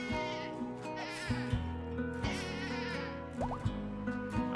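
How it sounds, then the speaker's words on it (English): Sheep bleat repeatedly in the RimWorld video game, wavering calls layered over steady game music and background tones, moderately loud and continuous throughout. "That was the sound of sheep having a good fun time."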